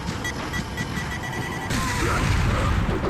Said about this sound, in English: I'm going to use my hand grenade here.